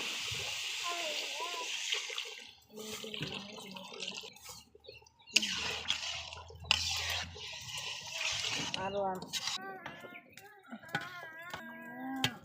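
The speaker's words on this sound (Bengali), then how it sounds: "তো উসলানো হয়ে গেছে এখন পানি দিয়ে দেব" Water poured into a meat curry in a cooking pot, splashing and sloshing in bursts, with voices talking through much of it.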